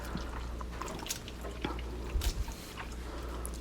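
Water from a tap splashing and dripping while raw chicken is washed with salt, soft wet squishes and irregular drips over a steady low rumble, no talking.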